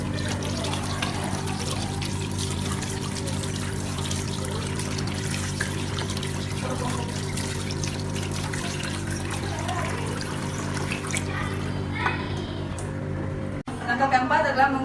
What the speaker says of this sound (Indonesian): Langkah ketiga adalah melakukan cuci tangan